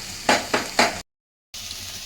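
Close sizzle of cloves, cardamom and grated coconut frying in a pan, with three quick stirring swishes, a brief cut to silence, then the soft frying hiss resumes.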